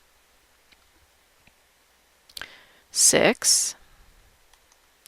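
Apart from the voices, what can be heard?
computer mouse clicks on a file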